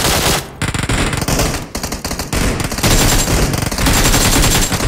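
AKM and QBZ rifles firing in the mobile battle royale game BGMI: loud, rapid automatic bursts rattle almost without pause, with a couple of short gaps between strings of shots.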